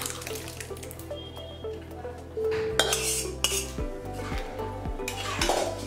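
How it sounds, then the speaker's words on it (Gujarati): Dried peas stirred into sev usal in a pot, with a spoon clinking and scraping against metal and wet squelching and dripping, close and intermittent. "હવે બરોબર મિક્સ કરી લઈશું"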